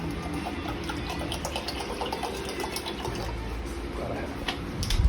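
Water pours steadily into a pot with a continuous splashing rush, close by, over a low rumbling background.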